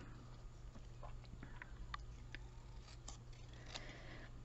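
Scissors trimming a letter off a piece of cardstock, a series of faint, close, crisp snips and paper clicks at an irregular pace over a quiet low hum.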